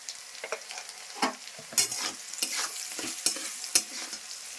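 Okra curry cooking in a pan with salt and turmeric, soft sizzling broken by a series of sharp spoon scrapes and clatters at irregular intervals, close and quiet.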